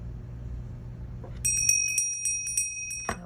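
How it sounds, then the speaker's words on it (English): Classroom timer bell rings out with a bright, metallic trill of several rapid strikes, fairly close, over a low background hum, followed by a soft thump. "Okay, there's the bell, so your pencils are down and your hands are on your head."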